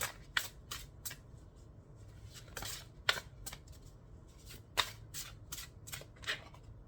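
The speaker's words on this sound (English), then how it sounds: "Let me grab one of these cards for you." Tarot cards being shuffled and drawn, with a series of quick crisp riffling flicks and card snaps in an irregular rhythm, close and quiet with no talking.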